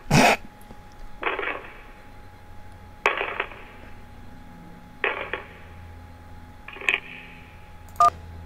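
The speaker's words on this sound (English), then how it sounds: "That was dirt being thrown on the lid of a coffin." Dirt thrown onto a coffin lid as a video game sound effect: four spaced, dull thuds with scattering grit, each about two seconds apart, framed by sharper clicks at the start and end.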